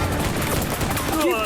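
Sustained gunfire from a battle scene in the 2010 action film El Dorado: City of Gold, a dense continuous crackle of rapid shots, loud and close throughout, with a voice faintly mixed underneath.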